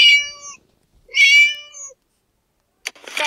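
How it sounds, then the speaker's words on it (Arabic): A cat meows twice, clear and close, with a short silence between, followed by a brief rustle. "قطة"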